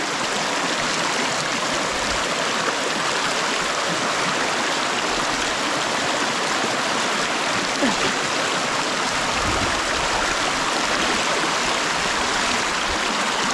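A shallow stream flows over its bed at a river crossing, a steady, loud rushing and gurgling wash that continues unbroken and close by, with no voices over it.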